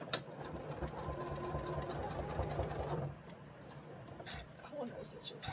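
A sewing machine runs steadily for about three seconds, stitching pieced fabric for a jam jar topper, then stops, leaving a few faint clicks and handling noises.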